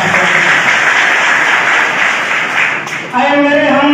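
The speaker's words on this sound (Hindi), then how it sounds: "एक बार जोरदार ताली बजाएं।" Audience at a VIP party political rally in Bihar applauds loudly and steadily, a dense wash of clapping that dips briefly before music with a sustained tonal line cuts in near the end.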